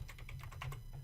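Quick keystrokes on a computer keyboard as a template name is typed, several light clicks in a rapid, uneven run, faint and close with no voices.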